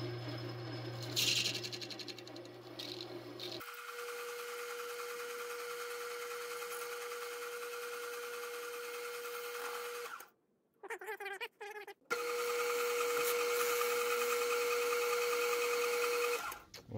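A bench buffer whirs steadily while polishing a wooden pattern piece for a Singer hand wheel metal casting, with a sustained tonal drone that stops briefly, sputters, and then resumes.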